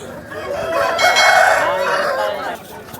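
A healthy black-speckled rooster at a Vijayawada rooster market crows once, loud and near, a long rising call lasting about a second and a half amid background noise.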